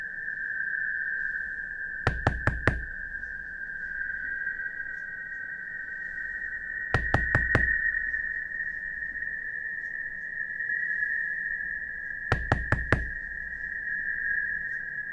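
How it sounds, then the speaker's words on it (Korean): Someone knocks on a door: three sharp, quick raps come in clusters, three times at roughly five-second intervals, over a constant high electronic tone and quiet background. "문을 두드리고 있는 누군가의 정체가"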